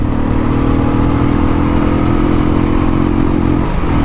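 Stock exhaust of a Royal Enfield Classic 350 motorcycle thumps steadily and loudly as the bike accelerates through the gears, a close, continuous engine note without talk.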